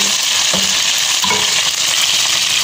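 Chicken adobo with potatoes sautéing in a pan, a loud steady sizzle with a couple of brief stirring scrapes, close up and with no talking.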